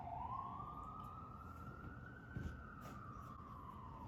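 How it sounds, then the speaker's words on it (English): An emergency siren wails faintly in the distance, a single long rising and falling tone over low background rumble, with no talking. "Hear that siren?"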